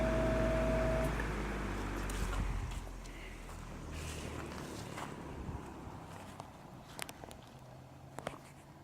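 An antique Hunter pedestal fan spins down after being switched off, its low motor hum and hum tone fading over the first seconds into a quiet, scuffy wind-down with light clicks and faint bearing noise.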